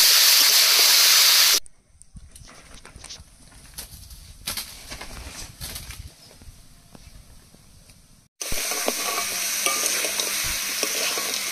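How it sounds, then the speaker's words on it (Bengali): Duck meat for a curry fries in hot oil with a loud, hissing sizzle. It drops to quieter stirring with clinks and soft bubbling, then the close, steady sizzle surges back. "মাংসগুলো দেখুন খুব সুন্দর করে কষিয়ে নিয়েছি"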